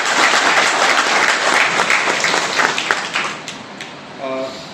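An audience at a university award ceremony applauds, a dense burst of clapping that fades gradually, followed by a brief voice at the very end.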